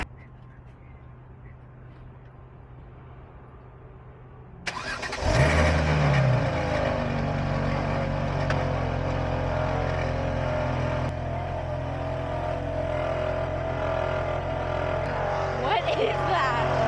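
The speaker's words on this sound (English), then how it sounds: "Customer states that there's a loud rubbing / rattling noise coming from the front end of the engine." A BMW engine, heard from outside the car, starts up and settles into a loud, steady running drone with a persistent rubbing, rattling tone from the front end, where a faulty alternator is suspected. A voice is audible briefly at the start.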